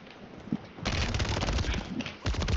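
Hip-fire gunfire in Warzone 3, loud bursts of rapid automatic shots following a quieter opening, with a brief pause before the firing resumes.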